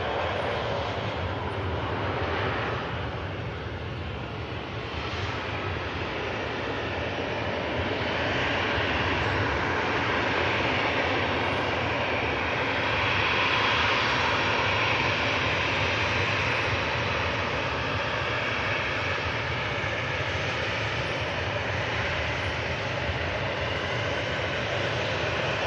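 An airliner rolls along the runway at Manchester Airport past the rapid exit, a steady, loud roar of engine and rolling noise that holds without a break throughout.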